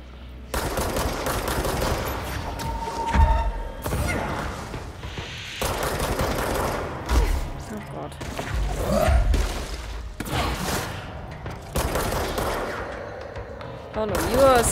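Rapid bursts of gunfire and heavy thuds from sniper and cannon enemies in the action game Control, loud and nearly constant with booming impacts, mixed with game audio.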